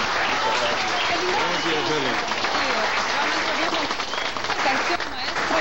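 Audience applauds steadily for a singer, continuous dense clapping throughout with a voice speaking over it.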